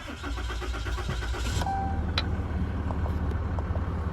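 A Ram 3500 pickup's 6.7 Cummins turbo diesel cranks and starts, settling into a loud, steady low idle with a brief electronic chime partway through.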